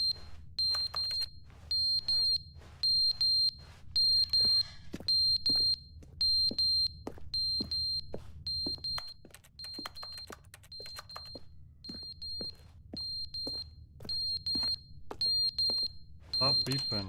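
A smoke alarm in the video game The Stanley Parable: Ultra Deluxe chirps in a steady, high-pitched train of short electronic beeps, evenly spaced, over a low background hum, with a voice speaking intermittently.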